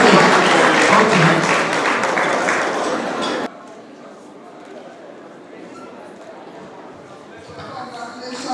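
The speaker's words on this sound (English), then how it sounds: "Please clap for them until they get all their photographs and leave the stage" An audience claps loudly and densely for about three seconds, then the applause cuts off abruptly, leaving quiet room noise that swells slightly at the end.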